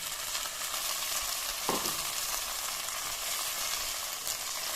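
A pan sizzles steadily and quietly, with a brief splash of thick ground tomato, pepper and ginger paste landing in the hot oil partway through, while cooking fish curry.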